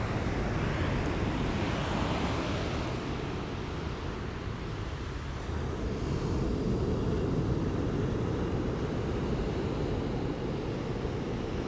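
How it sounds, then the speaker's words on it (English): Ocean waves break on a beach in a steady, broad roar of surf with slow swells in loudness, continuous and fairly loud with no voices. "Taking in the sound of the waves."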